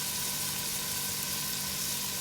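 Onions and peppers frying in a pan, a steady dense hiss and crackle of sizzling that stays constant and fairly loud throughout, with no talking.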